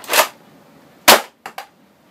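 A modified Kronos Nerf blaster fires foam darts, two loud sharp pops about a second apart followed by two quicker, fainter snaps, with no talking.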